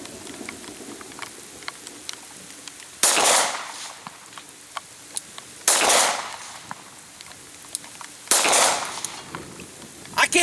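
Three loud handgun shots fired at a target in the rain, spaced a few seconds apart, each a sharp crack with a short echoing tail over the steady patter of falling rain.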